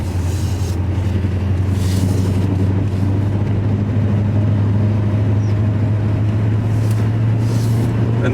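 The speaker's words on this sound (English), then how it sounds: "Okay, we are on public road now." A Porsche 928 driving on a public road, its engine a loud, steady low drone that holds constant throughout, with road and wind noise over it and no talking.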